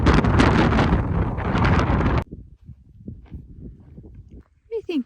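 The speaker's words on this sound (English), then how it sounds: "Whoa, it's windy." Strong wind buffets a microphone outdoors near a truck in Hanksville, Utah, roaring loud and steady for about two seconds before cutting off, followed by faint rustling and a brief voice.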